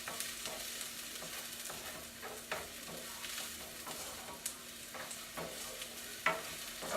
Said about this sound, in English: Alright, so I'm stirring this up here.